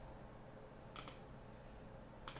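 Computer clicks from a mouse or keyboard, heard as two quick double clicks about a second apart, faint and sharp over a low steady room hum, with no speech.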